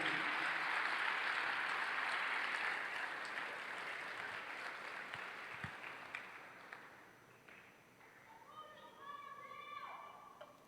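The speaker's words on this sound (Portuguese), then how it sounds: "dê um forte aplauso para Jesus" A church congregation applauds for Jesus at a Portuguese-language service, a dense wash of clapping that starts loud and slowly thins out, with scattered voices and children's chatter toward the end.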